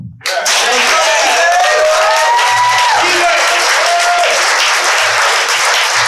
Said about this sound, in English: Make some noise one more time for Isabel.